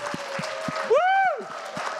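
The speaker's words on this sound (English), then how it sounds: "please give a huge round of applause for our Vietnamese pitchers" Audience at an innovation fellowship pitch final applauding Vietnamese pitchers: a few scattered claps under a single rising-and-falling whoop of a cheer, brief and fairly close.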